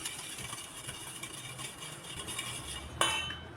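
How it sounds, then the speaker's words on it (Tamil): A spoon stirs bonda batter with cardamom powder in a bowl, giving a soft, steady scraping over a constant background hum, then a single sharper clink against the dish near the end. "நல்லா மிக்ஸ் பண்ணணும்."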